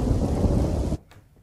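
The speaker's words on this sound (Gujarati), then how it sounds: "પંથકમાં વરસાદ વરસ્યો લાંબા સમય બાદ વરસાદની શરૂઆત થઈ" Monsoon rain pours down in Gujarat with a loud, dense rumble of thunder for about a second, then cuts off abruptly to faint background noise.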